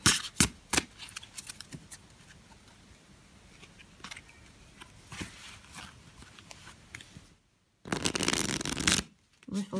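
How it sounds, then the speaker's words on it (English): Stiff Grand Etteilla tarot cards shuffle with repeated soft slaps and scrapes, then a loud, dense riffle burst near the end, followed by a brief pause and more shuffling. "Shuffles fairly well."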